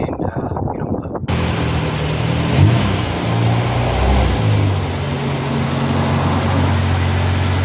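A Hillman Superminx driving outdoors, its mid-pitched engine running steadily and close by with a rising rev partway through, after a brief indoor start.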